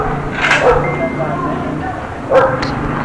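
A dog barks and yips a few times outdoors near townhomes, the short sharp calls standing out over background noise and a voice.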